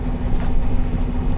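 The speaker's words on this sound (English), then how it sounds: "Hear all the engine sounds here." Transperth bus engine departing Murdoch in Perth, a loud steady low rumble with a constant hum, heard from inside the vehicle.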